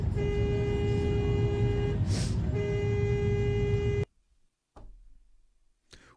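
A car horn gives one long steady blast from inside a vehicle on German roads, briefly interrupted near the middle. It then cuts off, leaving quiet road noise.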